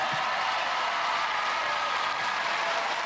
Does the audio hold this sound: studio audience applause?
yes